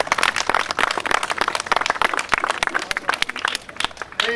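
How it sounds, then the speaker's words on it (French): A small audience claps for a performer's assistant after torches are lit, a lively, uneven patter of hands that continues steadily and softens slightly toward the end. "On peut applaudir mon assistant"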